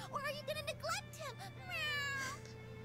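Cat meowing in the video game Disgaea PC 2: several short, rising-and-falling meows, then a longer drawn-out one, over a steady low hum of background music.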